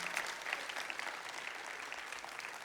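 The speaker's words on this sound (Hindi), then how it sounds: "एक बारी विपिन शर्मा जी के लिए ताली बनती है यार" An audience applauds for actor Vipin Sharma at a fan meet, a dense and even wash of clapping heard from a distance and sustained for the whole stretch.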